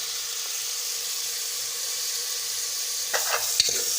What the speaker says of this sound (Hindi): अब हमने इसमें आधा पाव बोनलेस चिकन ऐड कर देना है और अच्छी तरह से ऑयल में इसको भून लेना है